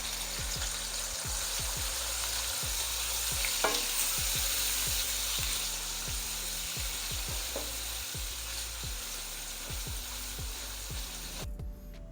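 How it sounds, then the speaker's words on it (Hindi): Finely chopped onions fry in oil until brown, about a quarter kilo for a chicken korma. A loud, continuous sizzle runs throughout, with regular stirring scrapes of the spoon recurring every second or so. "प्याज को ब्राउन करेंगे।"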